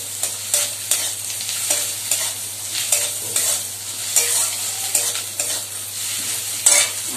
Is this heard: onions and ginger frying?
yes